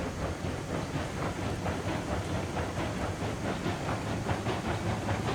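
Steam train from the Railroads Online video game rolling downhill with its brakes applied: a steady, dense hiss and rumble with a fast, regular clatter running throughout, continuous and fairly close, with no voices.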